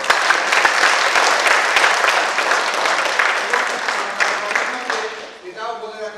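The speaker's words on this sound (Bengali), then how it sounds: "এর জন্য এদেরকে করতালি দিয়ে অভিনন্দন করা।" An audience at a Bengali theatre performance breaks into sustained, dense applause that fills most of the clip and tapers off near the end, where a voice begins speaking.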